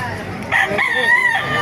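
A rooster crows in a drawn-out call, fairly close and loud, with a faint background murmur.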